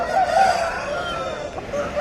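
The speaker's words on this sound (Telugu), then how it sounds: "మంచి సైజు పుంజు" A good-sized rooster at a Sunday hen market in Piler gives a single short crow, fairly close and clear against faint background noise.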